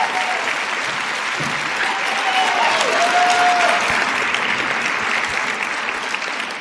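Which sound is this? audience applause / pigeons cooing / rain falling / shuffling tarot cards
audience applause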